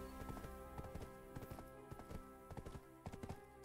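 Hooves clip-clop in a quick, regular galloping rhythm in the game Black Desert Online, fairly faint against a dense layer of background music.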